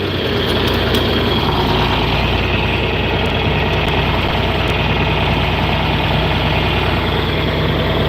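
A tractor engine runs steadily at idle, loud and close, with a constant low rumble and vibration that barely changes throughout.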